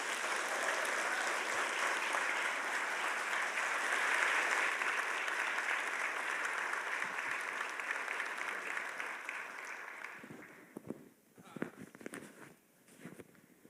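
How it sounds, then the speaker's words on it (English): An audience at a Safe and Just Communities Summit gives Congressman Hakeem Jeffries a sustained round of applause, dense and steady for about ten seconds before thinning into scattered claps and fading, with some murmuring as it dies down. "a warm round of applause this morning for Congressman Hakeem Jeffries"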